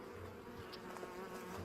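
Agitated honey bees buzz steadily at an open hive during an inspection, a dense continuous drone that stays close and even throughout with no voices.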